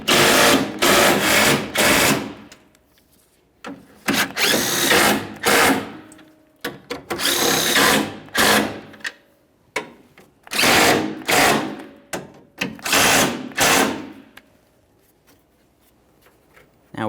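A power tool snugs up the 13mm mounting bolts on the AC condenser of a 2002-2009 Chevrolet Trailblazer 4.2L L6. There are repeated loud whirring bursts of a second or two, separated by short pauses.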